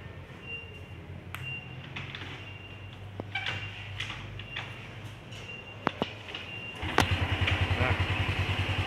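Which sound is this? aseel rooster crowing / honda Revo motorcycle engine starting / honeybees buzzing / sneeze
honda Revo motorcycle engine starting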